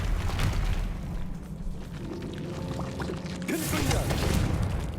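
Rumbling, crumbling blasts and debris from the Bombarda blasting spell in the video game Hogwarts Legacy, with a sustained loud roar, a short dip, then a fresh surge of crackling impact and falling rubble.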